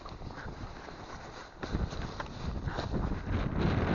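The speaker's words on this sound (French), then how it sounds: "Parce que là, il y a du vent là." Wind gusts across a fishing pond, a steady broadband rush that swells noticeably louder about halfway through, buffeting the microphone close up, with no talk over it.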